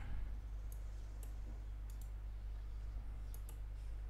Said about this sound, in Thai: คลิกซ้ายแล้วก็เลื่อนเมาส์ลงมานะ